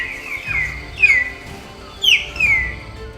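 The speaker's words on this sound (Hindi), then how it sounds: "छत्तीसगढ़ राज्य की राजकीय पक्षी पहाड़ी मैना की आवाज एक समय बस्तर में हर जगह गूंजा करती थी" A hill myna in the forests of Bastar, Chhattisgarh, gives a few loud, clear whistled calls, sharp rising and falling notes spaced about half a second apart, close and without voices.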